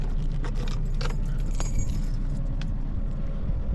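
Metallic jingling of keys in short bursts while unlocking a hut, close by, over a steady low engine-like rumble.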